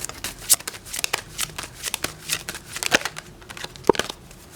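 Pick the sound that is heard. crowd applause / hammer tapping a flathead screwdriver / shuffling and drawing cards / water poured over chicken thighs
shuffling and drawing cards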